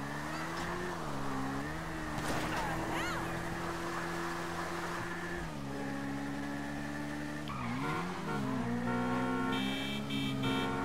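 A supercar engine in the video game Grand Theft Auto V drones steadily at high revs, its pitch dipping and climbing with gear changes and throttle, with tire screeches and a busy game background throughout.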